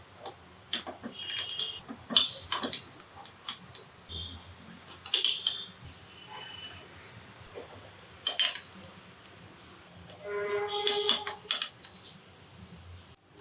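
Wheat-and-banana sweets frying in a pan are turned over with a metal utensil, producing several bursts of sharp clinks and scrapes separated by quieter pauses.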